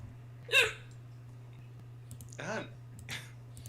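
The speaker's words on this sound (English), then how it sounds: "You can scare someone, stop their hiccups" Someone hiccups sharply, one clear near hic followed later by two softer ones, over a faint steady hum with a few clicks.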